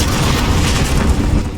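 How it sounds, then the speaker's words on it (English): A cruise missile explosion in Call of Duty: Modern Warfare rolls out as a loud, sustained, deep booming rumble that fills the whole stretch. "Enemy cruise missile incoming."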